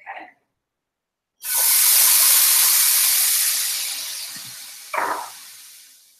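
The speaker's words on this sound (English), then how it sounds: "let's spray our pan and add our cauliflower rice to the stove" Cauliflower rice hits a hot stovetop pan sprayed with oil, bursting into a loud, steady hiss that slowly fades, with a brief spray-like puff near the end and a short burst before it starts.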